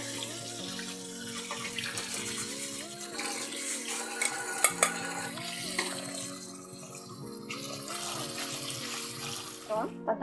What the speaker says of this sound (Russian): Теперь я просто воду солью.